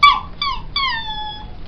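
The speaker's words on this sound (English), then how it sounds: "It's a Dalmatian." A Dalmatian dog, in a story told with a stuffed toy, gives three quick, high whining yelps, each sliding downward in pitch and the last drawn out, close and clear with no talk around it.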